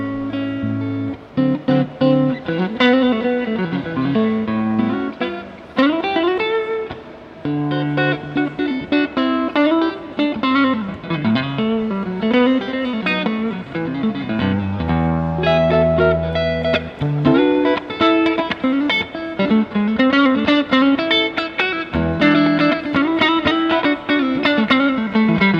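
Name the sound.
electric guitar clean tone through BluGuitar BluBox speaker emulator pedal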